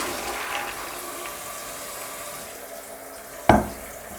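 Soaked chickpeas are rinsed under a running tap, a steady hiss of flowing water that fades slightly before a sudden knock of the pot or tap near the end.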